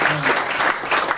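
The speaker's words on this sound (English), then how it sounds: "Don't clap too hard." Audience applause at a live comedy show, a dense wash of clapping from a crowd that stays steady and loud for the whole second without any talk over it.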